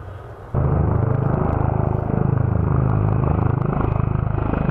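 Mi-24 attack helicopters fly over a military training ground, a loud steady rotor rumble with rhythmic chopping that begins abruptly and holds for several seconds, its pitch slowly sweeping up and down as the aircraft pass.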